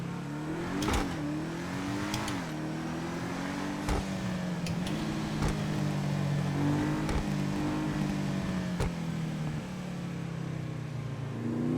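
An Albany V-STR sports car engine in the video game GTA 5 revs up and down through repeated climbs and drops in pitch, with steady close engine rumble and occasional clicks of shifting.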